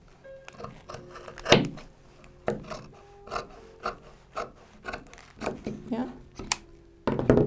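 Scissors snip through folded calico along the seam allowance of a skirt dart, giving a series of short, crisp cuts at an uneven pace, heard up close under a woman's speech.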